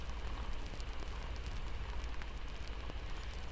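Soft rain tapping on the roof of a cabin in the woods at night, a steady gentle patter with faint drips, fairly quiet and unbroken with no voices.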